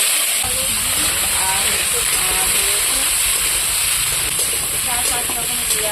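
Vegetables tipped into a hot pan for a home-cooked curry sizzle with a loud, continuous hiss and crackle, while a voice talks over it.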